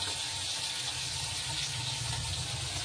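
Water runs from a kitchen tap while hilsa fish is washed, a soft, continuous splashing stream heard fairly faintly and alone.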